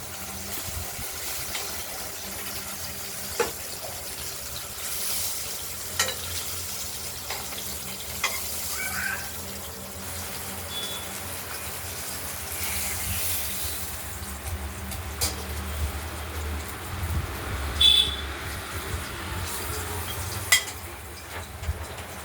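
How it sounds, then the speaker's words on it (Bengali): Pieces of katla fish fry in hot oil in a pan, a soft, continuous sizzle broken by scattered scrapes and clinks of stirring, heard close with no talking. "মাছগুলো ভাজা হয়ে গেছে, আমরা মাছগুলোকে তুলে নেব"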